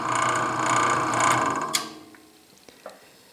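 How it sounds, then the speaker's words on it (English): A Sears Craftsman drill press spindle turned slowly by hand, belt running over three pulleys on the lowest speed, gives a steady mechanical whir and rumble that fades out, followed by a few sharp, isolated clicks and taps. "I prefer to just rotate the spindle a little bit, which I'm attempting to do right now"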